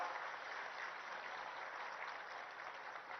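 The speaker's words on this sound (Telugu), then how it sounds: "అందరూ ఒక్కసారి గట్టిగా చప్పట్లు కొట్టి గవర్నర్ గారికి స్వాగతం చెప్పాల్సిందిగా కోరుతా ఉన్నాను" An audience at a rural event in Telangana gives a minister a welcome with a steady wash of applause, sustained and even, faint and a little distant, with no voices over it.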